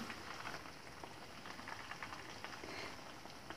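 Potato smiley snacks frying in oil over medium heat, a steady dense crackle and hiss of bubbling oil with no gaps, close and fairly loud throughout, no voices.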